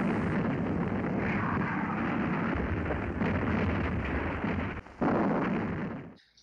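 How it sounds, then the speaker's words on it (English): Harbour defence guns firing at attacking boats during a wartime raid, a dense, continuous rumbling barrage of heavy booms and blasts with a brief dip near the end before fading out. "now began firing at the boats."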